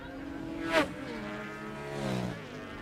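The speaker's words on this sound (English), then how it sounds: "Here's this Gixxer. Wait till you hear this." A Suzuki GSX-R (Gixxer) racing motorcycle at a classic bike festival race screams past, a sharp loud peak followed by a falling engine note as it moves away, then a second rising and fading pass.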